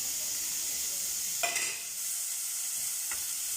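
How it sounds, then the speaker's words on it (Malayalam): Ginger, garlic and onion sizzle steadily in a pan with curry leaves, a constant bright frying hiss broken by a couple of short scraping stirs of a spoon, close and fairly quiet with no voices. "നന്നായി ഇളക്കി കൊടുക്കാം."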